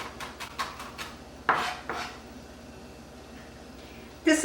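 Knife strikes on a cutting board while chopping parsley for a pasta sauce in a home kitchen, a quick run of close taps followed by a few heavier chops and a final burst of scraping.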